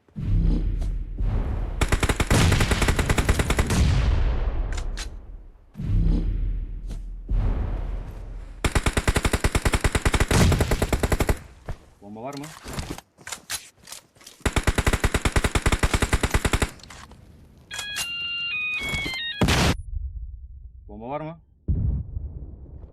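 Bursts of automatic gunfire in the mobile battle royale game PUBG Mobile, loud repeated volleys separated by short pauses, with a few brief electronic game tones and someone talking over the action.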